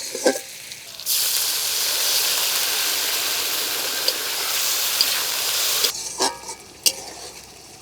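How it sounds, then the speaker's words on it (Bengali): Boiled duck eggs being sautéed with onion and chili in a village kitchen pan: a loud, steady sizzle for several seconds, with sharp clinks and stirring knocks at the start and the end. "সেদ্ধ ডিম হাঁসের ডিম এখন পেঁয়াজ মরিচে দিয়ে কষানো হচ্ছে"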